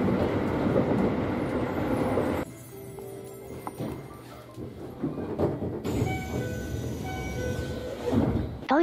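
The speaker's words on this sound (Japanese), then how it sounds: "なんかこの3000型のドアエンジンの空気の音、ちょっと阪神の5700系みたいに聞こえる。" Pneumatic door engine of a Shin-Keisei 3000 series commuter train at a station, a loud hiss and rumble of the doors working, then a quieter lull before the train's running noise and whine return, with no talk.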